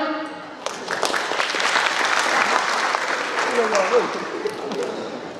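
A comedy show audience applauds in a dense, sustained wash of clapping for several seconds, with some voices and laughter mixed in.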